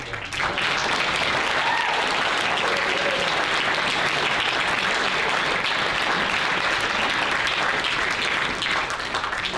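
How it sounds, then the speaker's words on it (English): Awards show audience breaking into sustained, even applause for an honoree, a dense wash of clapping that holds steady from start to finish. "So please, warm round of applause for Scott Brown"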